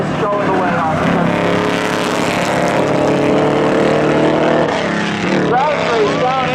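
Race cars roar loudly side by side in a spectator drag at a short oval speedway, an '89 Camaro among them, engines droning continuously near and strong with shifting pitch, while an announcer calls the race over them.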